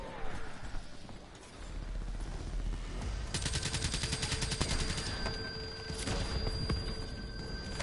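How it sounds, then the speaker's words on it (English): A Gatling gun in a video game fires a sustained, rapid mechanical stream of shots. It builds after a quieter opening and continues steadily at moderate loudness. "there's a Gatling gun?"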